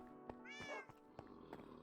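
A cat meows once in a Minecraft-style multiplayer server game, a short, clear, mid-pitched call standing alone amid soft game clicks and background tones.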